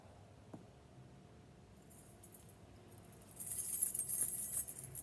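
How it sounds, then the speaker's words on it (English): A bunch of metal keys jangles in a church, a soft brief clink early on, then a louder, brighter rattle building near the end, heard alone without talk. "What are these? Keys, right?"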